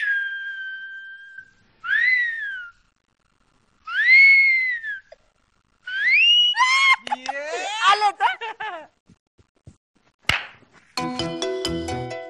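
A person whistles a series of clear, rising and falling sustained notes with pauses between them, then a voice imitates the whistling with squeaky, warbling tones, and a burst of bright beeping tones closes the stretch. The setting is a Marathi comedy stage play.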